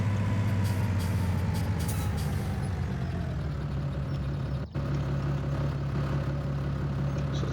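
A tractor engine in Farming Simulator 2017 drones steadily throughout at a constant low idle, loud and close, with a brief dip in the sound just past the midpoint before it carries on unchanged.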